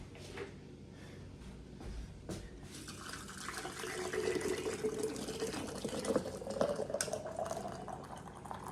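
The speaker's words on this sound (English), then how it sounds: "So I'm going to get my water that just got off boil and put it in here." Just-boiled water is poured from a kettle into a hot glass canning jar while preserving apples, making a steady splashing fill whose pitch rises as the jar fills, with no talk.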